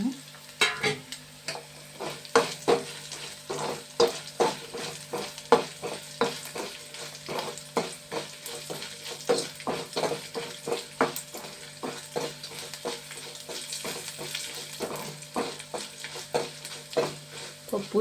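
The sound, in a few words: tempering spices sizzling in oil while stirred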